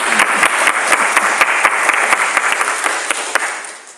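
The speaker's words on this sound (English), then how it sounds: "Incite enthusiastic clapping." Enthusiastic clapping from a church audience, a dense, steady round of many hands close by that holds strong before tapering off toward the end.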